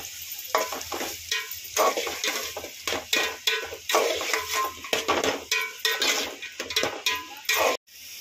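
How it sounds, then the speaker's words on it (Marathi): Vegetables fry in oil in a pan for pasta, a bright continuous sizzle broken by repeated rhythmic scrapes and clinks of a spoon stirring against the metal, close and loud. "आणि भाज्यांचा कच्चा वास जाईपर्यंत आपण या भाज्या तेलामध्ये फ्राय करून घ्यायच्या।"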